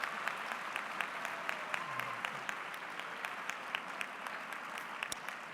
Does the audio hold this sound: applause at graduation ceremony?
yes